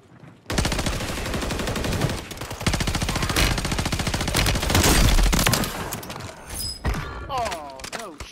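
Heavy automatic gunfire from a big gun in Call of Duty, long dense bursts of rapid shots that nearly fill the stretch, loud and close, with short pauses and a voice speaking near the end.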